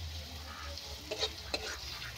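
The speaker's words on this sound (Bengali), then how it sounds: "পেঁয়াজটা এইভাবে আমি ভালো করে কষিয়ে নেব।" Onions fry in a pan for a fish curry, giving a steady close sizzle broken by a few light scrapes and clinks as they are stirred.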